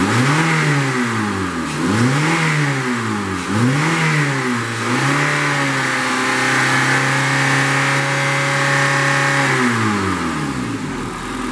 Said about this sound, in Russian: Работа двигателя на высоких оборотах.